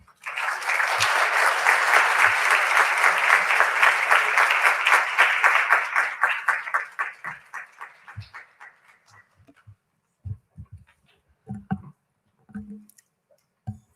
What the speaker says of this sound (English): Let's have a big round of applause once more